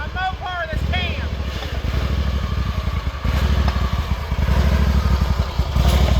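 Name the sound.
lawn mower engine running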